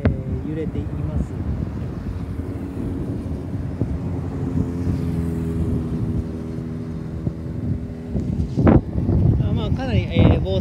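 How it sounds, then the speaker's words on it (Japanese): Strong wind gusting outdoors beside the Akashi River, a steady broad rumble of wind buffeting the microphone with low-pitched noise throughout, swelling into louder gusts near the end. "かなり風吹いて揺れています"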